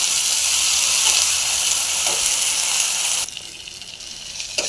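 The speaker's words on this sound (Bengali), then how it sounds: "মশলাটা দিয়ে ভালো করে কষিয়ে নেব।" Spices, garlic paste and onion sizzle in a pan for potato curry, a steady close hiss of frying that drops to a quieter sizzle partway through.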